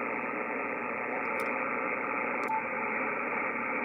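Steady hiss of radio static on a Yaesu FTdx5000MP transceiver with the noise blanker off, a dense even wash of noise with a couple of brief clicks, no voices.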